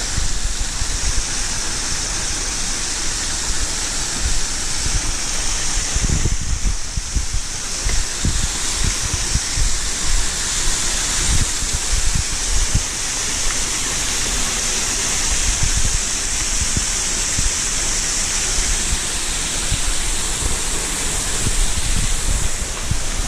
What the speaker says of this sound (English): This may be one of the best waterfalls I've seen